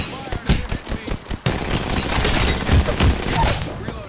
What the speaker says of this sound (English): Squad, adjust your strategy. Opening fire.